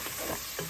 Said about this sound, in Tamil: கருவேப்பிலை போடுறோம்.